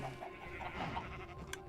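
Sheep bleating in the modded Minecraft pack Stoneblock 4: a faint, quiet farm bleat under a steady background hum, with a few soft repeated cries and no talking.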